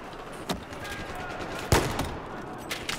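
Bolt-action sniper rifle shots in the video game Battlefield 4, two sharp cracks about a second apart, the second louder, over a steady background of game ambience.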